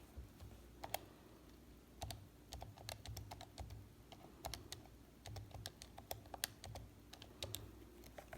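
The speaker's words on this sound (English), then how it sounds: "If I type this stuff into my calculator" Calculator keys are tapped in quick irregular bursts, close and quiet, each press a sharp click over a faint room hum, with no talking.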